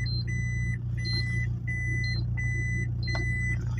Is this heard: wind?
no